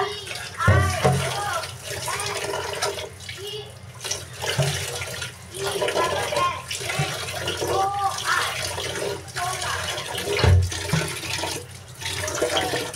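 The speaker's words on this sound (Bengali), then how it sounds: "তো ভাতের চালটা ধুতে এসে পড়লাম, ভাতটা বসিয়ে দিই।" Rice grains are rinsed in water at a sink, with repeated swishing, pouring and splashing close by, and a voice talks intermittently over the water.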